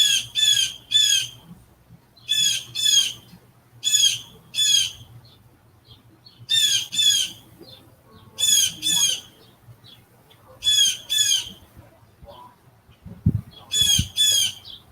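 Repeated paired bird squawks in short bursts, loud and close, with brief pauses between groups over a faint low hum.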